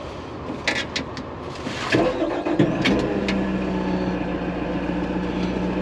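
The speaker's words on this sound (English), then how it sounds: "Let's get it started up, let you see the dash, and then we'll just drive it around" An LS MT473 tractor's engine cranks with a few clicks and a brief whir, then catches and settles into a steady, loud, close idle rumble that continues to the end.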